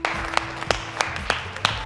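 A single person clapping slowly and steadily in a jail cell, as the Joker in The Dark Knight, about six sharp claps, fairly close, with a low hum underneath.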